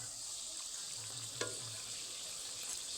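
A flipped colour kadam luchi fries on its second side in hot oil, producing a faint, even sizzling hiss with a low bubbling hum and one brief soft knock.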